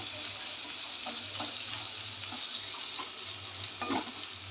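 Mixed vegetables with potato go into hot oil with whole cumin seeds, making a steady, fairly quiet sizzle with occasional stirring scrapes and clatters.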